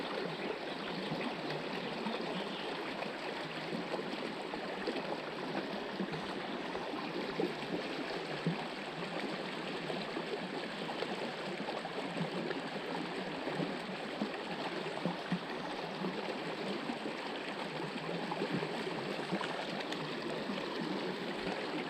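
A local creek flows steadily, with continuous broadband rushing and trickling water at close range, unchanging throughout without voices.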